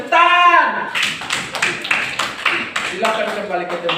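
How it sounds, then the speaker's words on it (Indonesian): A voice is heard briefly, then a classroom of pupils bursts into a run of quick, dense hand claps that carries on steadily to the end. "tepuk tangan"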